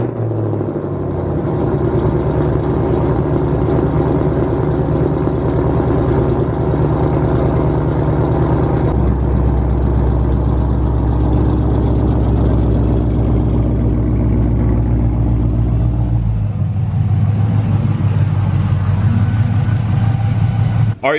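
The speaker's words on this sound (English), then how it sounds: "We're gonna go ahead and pull the Camaro out." A Chevrolet Camaro SS V8 idles with a deep steady rumble, then shifts pitch as the car is eased out into the driveway, loud and close for about twenty seconds before cutting off abruptly.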